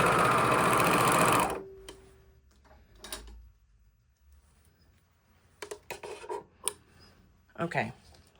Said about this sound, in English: how to overlock this edge to finish it